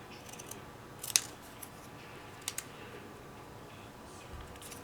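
Scissors snip through paper die-cut pieces in a few sharp, close clicks spread across a quiet room.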